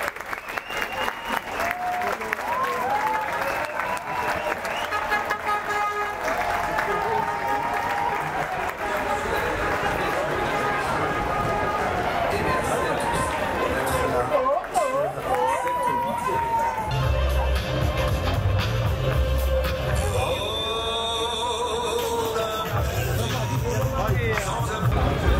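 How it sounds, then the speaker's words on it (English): A dense crowd lines the road for the Tour de France caravan, clapping and cheering continuously. Overlapping chatter and shouting run throughout, and a nearby voice speaks over the roar. "You can hear the crowds from, like, really far away"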